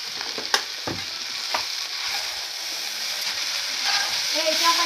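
Chow mein noodles stir-fried with sauce in a pan, a steady close sizzle with occasional scrapes and clinks of stirring, continuous and fairly loud throughout with no talking.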